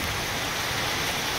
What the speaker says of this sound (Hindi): सो वर्षा तो एकदम बर्षी जाऊँच